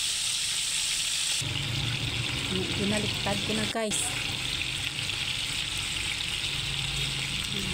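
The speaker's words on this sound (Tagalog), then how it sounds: "Pritong tulingan." Tulingan (bullet tuna) fish frying in a home pan, a steady close sizzle throughout with a brief clatter as the fish is turned, and a person speaking over it.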